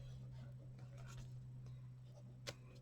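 Pen writing in an Archer and Olive planner notebook, faint soft scratchy strokes in short bursts with a small tap near the end, over a low steady hum.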